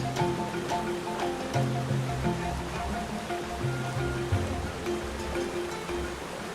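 Manneera waterfall and its stream rush in a steady, loud broadband roar of falling and flowing water, continuous and close with no voices.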